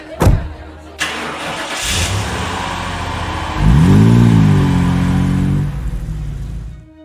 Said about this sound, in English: we get in the car and drive to Grandma's house